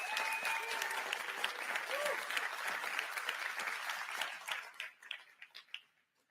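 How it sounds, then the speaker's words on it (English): Audience applause at a blockchain conference presentation, a dense wash of many hands clapping that carries steadily, then thins out and fades in scattered claps near the end. "Round of applause for."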